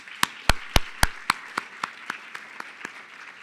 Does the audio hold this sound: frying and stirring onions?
no